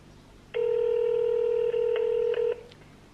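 One long electronic telephone ringing tone on a landline call lasts about two seconds, loud and steady with brief dips, over quiet room hiss and no talk.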